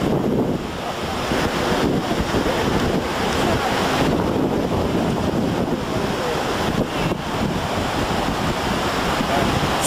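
Ocean waves washing onto a beach at Playa del Carmen, a constant loud roar of surf heavily mixed with wind buffeting the microphone, no clear voices.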